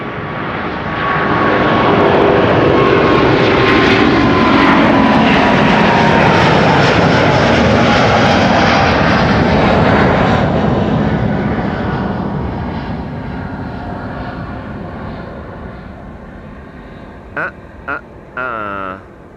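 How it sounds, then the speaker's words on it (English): A Delta Airlines Airbus A350 jet takes off from a runway at Amsterdam Schiphol Airport, a loud, roaring engine rumble that swells quickly, holds for several seconds and then slowly fades into the distance, followed by a few brief bumps. "there's another Delta A350 about to take off from this runway"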